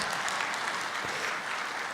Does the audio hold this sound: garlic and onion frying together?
no